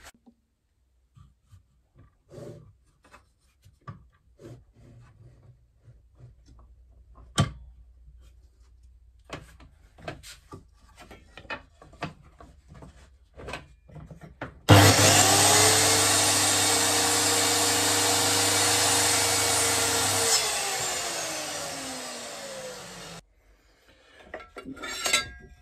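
A DeWalt radial arm saw makes a 45-degree cut through wood. The blade spins up loudly and alone, with a steady high whine for about eight seconds, then winds down. Light handling clatter comes before it.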